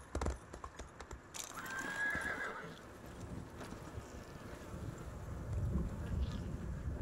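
Horse hooves clip-clop and a horse neighs in the Elder Scrolls Online video game near Davon's Watch; a clear whinny rises early over soft hoof steps and light wind, with the steps continuing after it fades.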